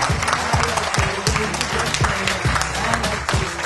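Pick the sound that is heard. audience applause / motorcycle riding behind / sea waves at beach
audience applause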